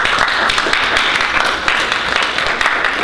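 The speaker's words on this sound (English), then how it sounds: "So give yourselves a wonderful round of applause." A conference audience applauding after student presentations, dense, steady clapping that fills the room from start to finish at high volume.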